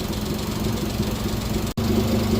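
A turbo-swapped Honda Beat engine idles steadily, a continuous low rumble and hum held up close, with a brief dropout near the end before it carries on unchanged.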